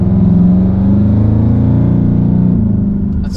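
A Ford Mustang GT engine is held at a steady rev of about 3,400 RPM, a loud, deep, throaty drone that stays close and even for several seconds before easing slightly at the end.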